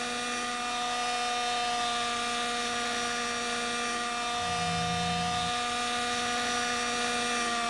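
A 3D RC helicopter in a flight simulator game whines with a steady, high-pitched rotor and motor drone, constant and close with no talking over it.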